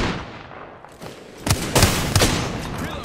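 Gunfire in the Apex Legends video game, a few sharp separate shots and bursts arriving in the second half after a quieter start, fairly close and loud, no talking.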